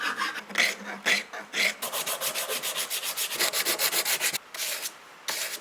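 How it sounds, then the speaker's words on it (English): A half round file rasps steadily across a forged karambit knife handle being shaped, producing close, loud repeated strokes in a fast rhythm with brief pauses between bursts. "Favorite tool for shaping a handle at this stage after the bell sander is a half round file."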